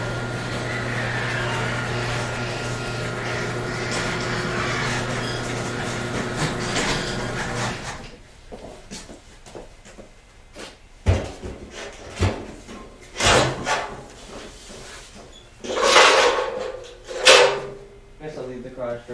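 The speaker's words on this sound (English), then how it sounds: "I gotta open the garage, so sorry for the noise because it's outside the garage." A garage door is opened from inside a home workshop, giving a loud series of clunks, rattles and rolling scrapes spread over several seconds after a steady background hum.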